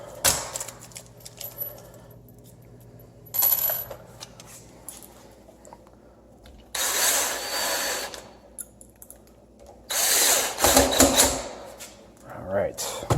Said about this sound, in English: Let's open up these screws.